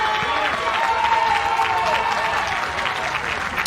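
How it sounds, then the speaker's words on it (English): Ballpark crowd applauds and cheers for a pitcher at a 2021 Little League World Series New England regional semifinal between Manchester, Connecticut and Peabody, Massachusetts; steady, moderately loud clapping with a whistle and some voices mixed in. "And applause in order for Jacob Budars."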